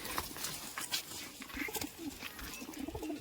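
Homing pigeons returning to a rooftop loft give soft, low cooing calls that repeat through the stretch against a busy outdoor background, with faint flutters and chirps mixed in.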